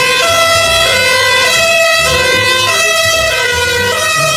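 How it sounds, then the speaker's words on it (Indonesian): A toy fire engine sounds a loud electronic siren. The wailing tone rises and falls continuously and stays close and steady for several seconds, with no voices over it. "Ini mobil pemadam kebakaran."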